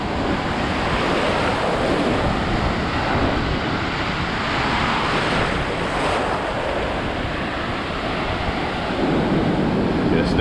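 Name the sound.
ocean waves breaking on Daytona Beach, Florida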